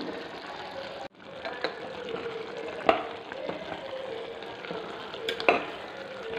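Dried chili and pepper-cumin powder stir-fried in a pan for a beef gravy, with a soft continuous sizzle and a few scraping stirs and clinks of the spatula, fairly quiet and close.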